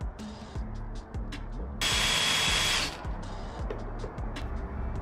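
A power drill whirs in short bursts while drilling through a van awning mount, then holds a louder continuous high-pitched grind for about a second before easing back to intermittent revving.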